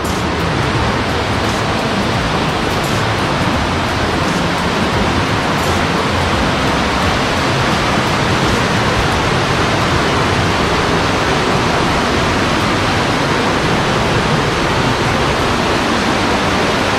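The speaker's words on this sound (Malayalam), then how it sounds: "ഇവിടെയാണ് മറ്റേ മലയുടെ മുകളിൽ നിന്ന് വെള്ളം താഴ്ന്ന് ഇറങ്ങിയിട്ട് പിന്നെ ഇവിടെ വന്നാണ് ഈ വെള്ളം പൊങ്ങുന്നത്" Water running down from a hillside into a stream at a plantation resort, a loud, constant rushing roar that fills the whole stretch without pause.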